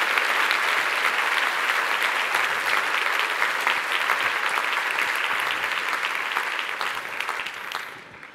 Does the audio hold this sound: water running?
no